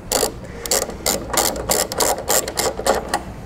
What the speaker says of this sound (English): And we'll take our 10 millimeter socket,